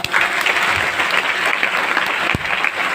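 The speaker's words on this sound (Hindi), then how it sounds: "डीएक्सन के लिए जोरदार ताली।" Loud, steady applause from an audience at a DXN business meeting in Danapur fills the whole three seconds, with one sharper clap-like burst near the end.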